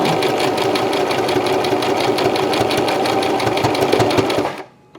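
A sewing machine runs a steady, continuous stitching whir, reversing briefly to backstitch and lock the seam before stopping abruptly near the end; no voices over it.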